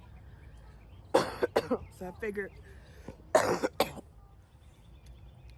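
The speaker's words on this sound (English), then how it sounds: "I had to go have that coughing spell" A man with COVID-19 coughs several times in short harsh bursts, with a brief spoken phrase between coughs, close and fairly loud against quiet background.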